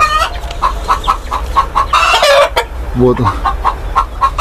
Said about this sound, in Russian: Скорее всего, петушок.